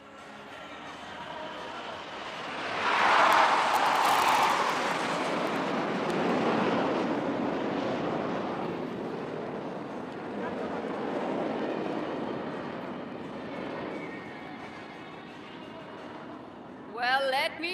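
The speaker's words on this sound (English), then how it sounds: "These aircraft will now be crossing each other right in front of you." Indian Air Force jets roar past over Marina Beach at an air show, a broad rushing swell that peaks early and then lingers as a long fading rumble, heard under a commentator's voice and crowd noise.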